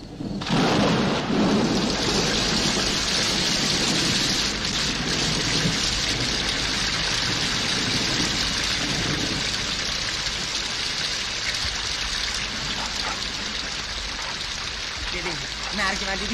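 Steady heavy rain with rolling thunder pours for the whole stretch, loud and continuous, broad and hissing, with faint voices now and then beneath the downpour.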